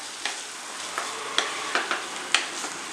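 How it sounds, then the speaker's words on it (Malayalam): Tomato rice made with Kerala matta rice is slowly stirred in a pan, soft sizzling underneath a few gentle, spaced scrapes and knocks of the spoon, fairly quiet and close. "ഇത് സാവധാനം ഒന്ന് ഇളക്കി യോജിപ്പിക്കുക."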